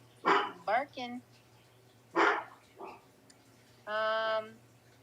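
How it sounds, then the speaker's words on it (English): A dog named as a Ruger barks in a few short, loud bursts, with a longer whining yip at the end, close to the microphone in a quiet room. "Barking."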